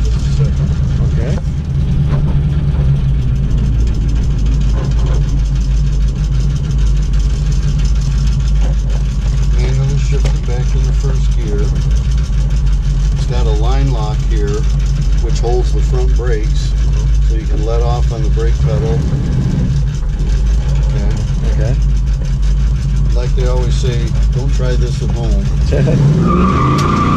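A vintage American muscle car engine running through the gears, a loud, continuous low drone with speech heard over it.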